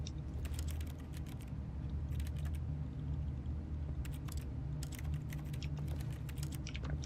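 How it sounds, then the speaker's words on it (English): Bursts of rapid keyboard typing clicks in The Stanley Parable video game, clustered in quick runs separated by short pauses over a low, steady background hum. "Why is that a keyboard noise?"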